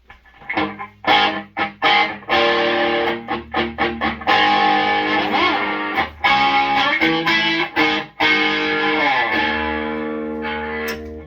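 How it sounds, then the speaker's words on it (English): An electric guitar plays through a modded Marshall DSL 20 amp with boost for overdrive, crunchy chords and single notes ringing out with sustain, loud and close, no talking. "You can hit it with the boost if you want to get kind of a overdriven crunchy tone."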